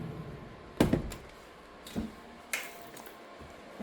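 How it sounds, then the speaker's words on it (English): A sliding patio door being moved in a rental home, with a sharp rattling clunk followed by a few softer knocks and slides, close by. "Just have to switch the patio doors a little bit."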